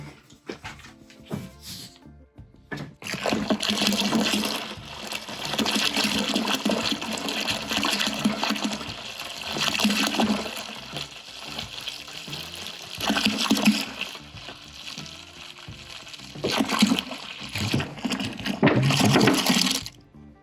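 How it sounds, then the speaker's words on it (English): Cold water poured from a one-gallon jug into a homebrew batch of Belgian ale wort, a continuous gushing, splashing flow in several long surges with brief pauses between them, close and fairly loud. "we can simply add a 1 gallon jug"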